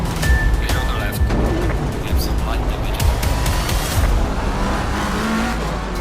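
Race cars in Assetto Corsa Competizione make contact in a crowded pack, heard as a dense, continuous engine roar with scattered clicks and knocks, steady and loud, with no talking.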